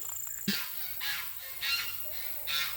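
Geese honk in a garden setting, several loud nasal calls spaced about a second apart, fairly close over faint background hum.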